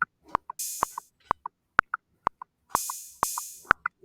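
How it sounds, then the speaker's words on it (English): Trap beat made in Soundation with an open hi-hat added: sparse clicky percussion ticks and kicks joined by hissing open hi-hat swells that ring briefly over the bouncy rhythm, fairly quiet. "And then I added an open hi-hat just for extra bounce in the beat."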